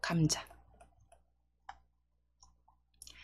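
Soft, sharp mouse clicks on a computer during a block-coding exercise, a few isolated taps spaced out after a brief burst of quiet talk, close and faint.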